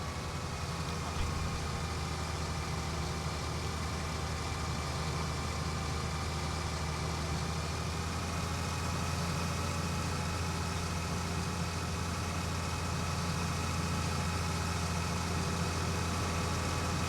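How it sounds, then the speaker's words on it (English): Ursus tractor engine idles steadily in Farming Simulator 2019, a constant low rumble with a faint whine, running on its own throughout with no talk. "You left the engine on the Ursus."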